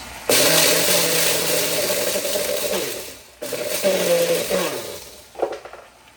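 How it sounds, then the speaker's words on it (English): A NutriBullet blender grinding whole peppercorns in short bursts: a loud, close, steady motor whir that runs for about three seconds, stops briefly, then starts again before cutting off with a rattle. "I'm gonna use that NutriBullet till it screws up one day."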